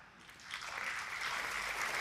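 An audience at a talk breaks into applause, the clapping swelling after half a second into a steady, moderately loud wash of hands that continues to the end.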